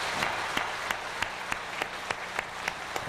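A small audience at a Korean church ministers' gathering claps steadily, with a few distinct sharper claps standing out in an even rhythm, fairly quiet overall.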